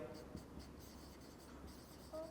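A pen or marker scratches quietly across a board as a matrix proof is written out in a maths lecture, faint, steady strokes with a voice murmuring in the background.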